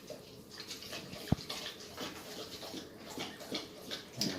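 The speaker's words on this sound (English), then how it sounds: "pour my vinegar onto my paper towel and my plate here" Vinegar poured from a container onto a paper towel laid on a plate, giving a soft, quiet wet trickle and soak with one sharp click partway through, all at low volume.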